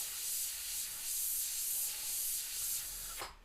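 Airbrush spraying paint in soft strokes on a skull design, a steady quiet airy hiss swelling and easing in pulses, ending with a short sharp burst of spray.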